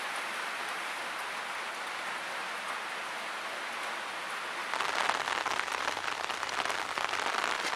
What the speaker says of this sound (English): It's a proper rain now.